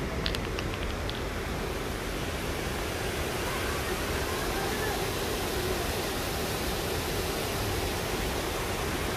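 Water rushing through a canal with two gates opened at Jatlan Head near Mirpur, Azad Kashmir: a loud, continuous broadband roar that holds steady throughout without breaks.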